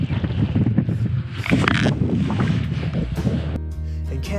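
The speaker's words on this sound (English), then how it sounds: "But he did say it's often windy and grey up here." Wind gusting across an exposed British hilltop, a steady loud roar and buffeting rumble on the microphone throughout, with no voices.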